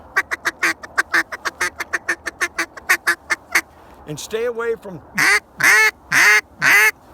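A duck call worked in rapid rhythmic clucks, then drawn-out quacks imitating a lonesome mallard hen on water; someone speaks briefly between the call sequences.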